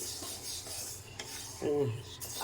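Lentils dry-roasting in a kadai, stirred with a spoon in light, gritty rasping scrapes against the hot pan, with a slightly louder burst of scraping and clinking near the end.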